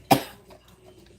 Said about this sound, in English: I've been having the weirdest cough lately.